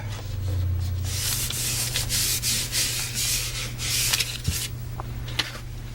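A vinyl wall decal is burnished down onto a dirty shop wall, heard as close, repeated scraping rubs in uneven strokes with a low hum underneath and no speech.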